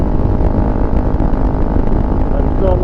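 A Honda CRF300L Rally motorcycle rides at cruising speed on stock gearing, near 65 mph and about 6,500 RPM, its close, loud engine drone steady with heavy wind rumble.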